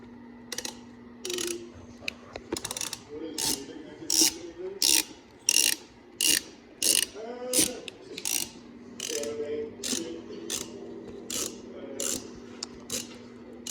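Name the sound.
ratchet wrench removing bolts on a car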